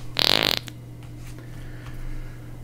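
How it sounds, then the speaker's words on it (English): One loud, buzzy, fluttering fart from a dog, short and close, followed by quiet room background. "That dog farts morning, noon, and night"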